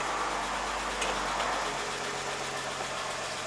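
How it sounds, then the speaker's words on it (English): A 1959 Chevy Apache truck engine idles with a steady, rough low rumble and some vibration, close and continuous, without speech. "Anyway, I started the truck up."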